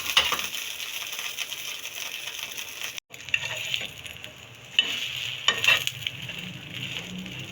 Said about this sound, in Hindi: अब हम इसमें सैंडविच क्रिस्पी होने तक इसे फ्राई करेंगे।